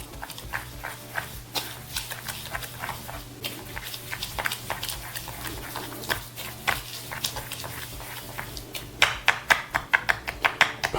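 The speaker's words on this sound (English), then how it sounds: "Get all of the spices into a bowl and then mix them together" Dry spice rub for smoked beef ribs stirred together in a bowl, a rapid run of close tapping and scraping strokes that quickens and grows louder toward the end.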